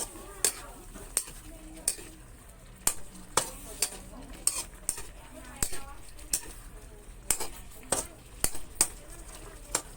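Stir-frying squid with holy basil in a pan: a steady sizzle with repeated sharp scrapes and clanks of a utensil against metal, close by, with occasional voices.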